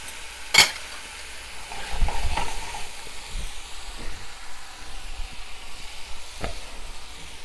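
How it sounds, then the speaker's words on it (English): Bacon sizzles and hisses steadily in a frying pan while being stirred, with occasional sharp clinks and scrapes of a utensil against the pan, close up and without talking. "all you're doing is cooking this up, bacon"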